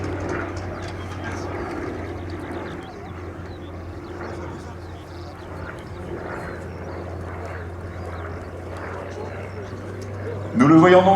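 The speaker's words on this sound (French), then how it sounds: "le Nord Atlas, cet avion bimoteur" A Nord Noratlas twin-engine military transport plane flies over an Orléans air show, its engines a steady, distant droning hum that persists throughout while a person talks over it.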